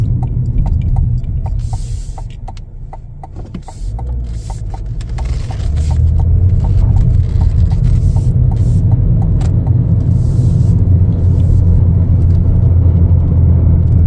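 Cabin sound of a 2025 Chevrolet Equinox LT driving and accelerating: a steady low road rumble and engine hum with a faint regular ticking, growing louder and fuller after a short dip.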